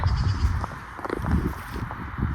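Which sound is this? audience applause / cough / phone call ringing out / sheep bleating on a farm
sheep bleating on a farm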